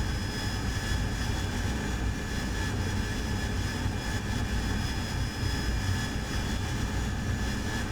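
An AV-8B Harrier jet engine in the DCS flight simulator game gives a dense, steady roar with a faint high whine on top, loud and constant with no talk.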